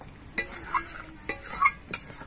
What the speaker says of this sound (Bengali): এই পটকাগুলো যাতে ভালো মতো সেদ্ধ হয় তার জন্য একটু জল দিয়ে দিচ্ছি।